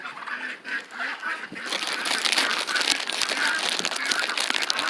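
A dense, noisy chorus of fowl, likely turkeys, calls and gobbles continuously. It is faint at first, then swells and holds steady.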